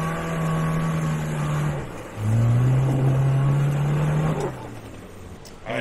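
A Geo Tracker off-road vehicle fitted with a budget suspension lift climbs a hill, its engine droning loud and close, dipping briefly then rising again in a strained, steady labouring pitch before fading off.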